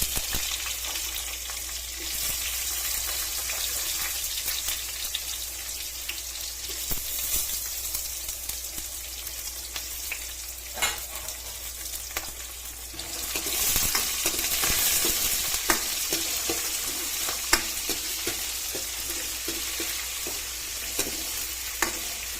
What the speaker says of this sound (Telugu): పుల్లగూర తాలింపు వేసేసుకున్నామండి.